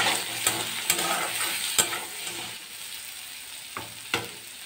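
Potatoes with turmeric stirred in a frying pan, a soft sizzle beneath repeated sharp scrapes and clacks of a spoon against the pan, close and without voices.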